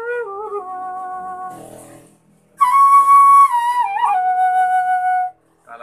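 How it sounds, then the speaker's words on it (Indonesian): A breathy suling bamboo flute in E plays a short wavering phrase, pauses briefly, then returns louder with sustained, bending notes before stopping abruptly. "Saya memakai suling E ya."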